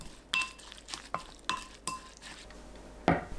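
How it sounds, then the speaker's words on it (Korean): Soy sauce, soup soy sauce, chili powder, plum syrup, sesame oil, oligosaccharide syrup and sesame seeds stirred together for a dipping sauce, heard as a few sharp spoon clinks and scrapes against a bowl, spaced irregularly and close by, without talk. "참기름 1큰술, 올리고당 1큰술, 깨 1큰술 섞으면 반묵 양념장 완성."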